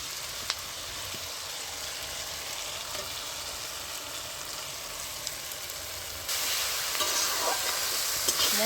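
Ground spice paste hits onions already fried red in hot oil, giving a steady close sizzle that grows noticeably louder and fuller partway through, with occasional faint clicks.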